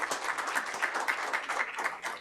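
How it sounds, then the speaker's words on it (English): An audience at a women's agrifood summit claps for a speaker, a rhythmic patter of fairly sparse hands at moderate distance, steady and unaccompanied by speech. "Round of applause again for Ayul"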